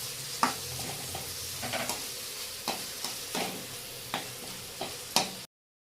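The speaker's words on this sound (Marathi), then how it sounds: "चॉप केलेला टोमॅटो आपण घेऊया याच्यामध्ये तर चांगलं परतून घेऊया" Chopped tomato sautéing in a pan for egg curry: a steady soft sizzle runs throughout, broken by intermittent spatula scrapes and light taps against the pan, close and moderately quiet, ending abruptly in silence.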